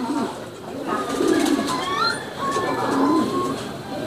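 Several racing pigeons coo in low, throaty bursts, with a couple of rising bird whistles over a busy outdoor background at a pigeon race.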